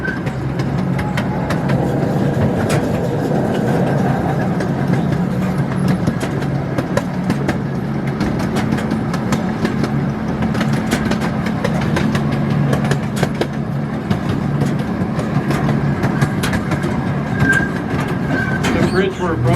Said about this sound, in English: Our train today is being pulled by a 1/3 scale replica of the CP Huntington.